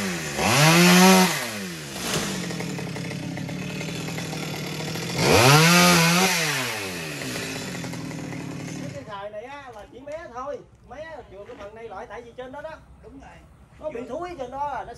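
A chainsaw cutting mango tree branches above a house roof revs loudly twice, its pitch rising and falling as it cuts, then idles and sputters more quietly with uneven bursts.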